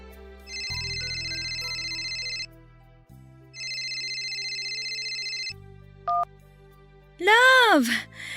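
Mobile phone ringing with an incoming call, two long bright ringtone bursts over a low hum, then a short tone and a rising electronic warble at the end, loud and close, with no one talking.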